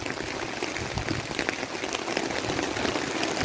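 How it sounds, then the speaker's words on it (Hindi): Heavy rain drumming on an umbrella outdoors, a dense steady patter of drops with scattered sharper hits, loud and continuous with no talk. "बारिश तेज हो गई बारिश हमारी छतरी भी हमारा साथ दे रही है"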